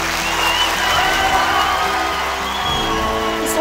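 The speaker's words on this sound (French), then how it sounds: "J'aimerais que ces applaudissements aillent au plus profond de votre cœur, maman" A large gathering of volunteers applauds loudly for a mother whose home is being repaired, with dense, sustained clapping mixed with cheers and scattered whoops from the crowd throughout.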